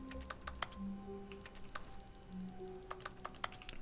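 Computer keyboard typing in the video game The Stanley Parable, made of faint, irregular clusters of sharp key clicks over a quiet, steady tonal background, with no voices.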